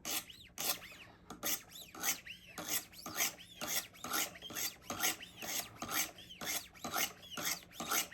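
Knife blade drawn over sharpening stones on a Wicked Edge sharpening system, a steady series of close rasping strokes in an even back-and-forth rhythm, about two per second, with no talk.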